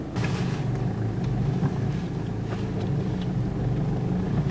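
A car on a road test drive with an OBD2 code scanner plugged in: a steady, loud engine and tyre rumble that carries on without a break and without any talk.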